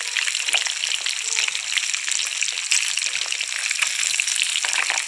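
Fish frying in a pan of oil, a steady dense sizzle and crackle that stays even and close throughout, with no voices.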